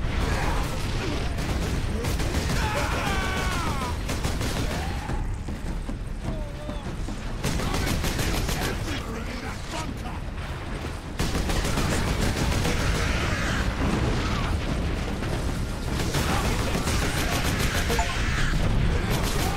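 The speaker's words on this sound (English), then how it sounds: "Keep firing! Keep firing!" Sustained gunfire in Warhammer 40K: Space Marine, dense rapid volleys and mechanical clatter running almost without pause over a long stretch, with battlefield shouting and voices mixed in.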